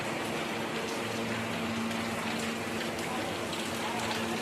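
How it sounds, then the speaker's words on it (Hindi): Monsoon rain falls steadily in a broad, continuous hiss of drops on surfaces, with a low hum running beneath it. "आज देखिए फाइनली बारिश हो ही गई है"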